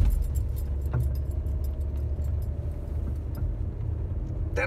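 A car with worn, failing suspension rattles and clinks while driving, light metallic jangles over a low road rumble, close and continuous with no talking.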